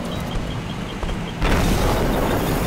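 A missile explodes in the Vroom Kaboom VR vehicle-combat game: a sudden, loud broadband boom hits midway through a low rumbling game soundscape and then holds as a sustained roar.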